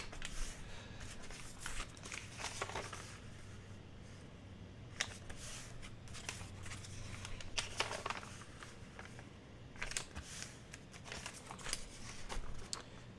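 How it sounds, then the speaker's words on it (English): Paper for a junk journal is folded in half, giving soft crinkles, slides and crisp creasing swipes that come in irregular bursts, close and quiet with no talk. "Right now, I'm just going to fold everything in half."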